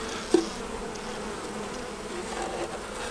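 Honeybees in an open hive with an eke on the brood box during winter fondant feeding give off a steady, moderately close buzzing hum, broken by one brief knock near the start.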